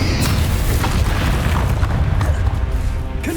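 Bombarda spell blasts in Hogwarts Legacy combat, a loud sustained booming rumble with heavy low-end energy and scattered crackling debris, continuous and dense throughout without pause.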